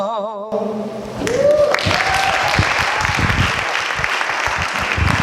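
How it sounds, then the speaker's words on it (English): Audience applause at a Buffalo Kwanzaa Ujima day performance, a dense steady wash of clapping that swells after a sustained sung or played tone and keeps going loud and full, with some voices and whoops mixed in. "Thank you for your kind applause"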